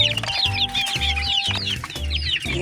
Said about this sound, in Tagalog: Nagutom ng ating mga manok.